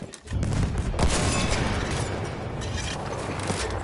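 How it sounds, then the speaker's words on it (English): A grenade blast in the World War I shooter Battlefield 1 opens into a dense, sustained roar of battlefield gunfire and rumbling explosions, loud and continuous throughout. "Throwing a grenade"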